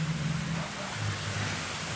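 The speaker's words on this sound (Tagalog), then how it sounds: "Basang-basa ng ulan." Steady rain pours down outdoors on a goat during an approaching typhoon, a continuous close hiss of falling water with a low rumble underneath.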